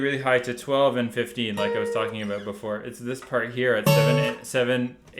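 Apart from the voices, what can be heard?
No everyday noises stand out.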